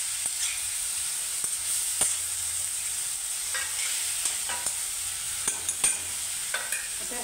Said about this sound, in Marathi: हे फिश तेलावर घातल्यामुळे हे तेलामध्ये फ्राय होतं